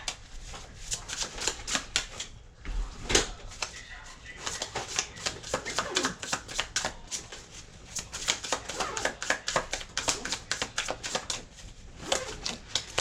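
A deck of tarot cards is shuffled by hand up close, producing a quick, rhythmic run of crisp riffling flutters and slaps, with occasional soft speech.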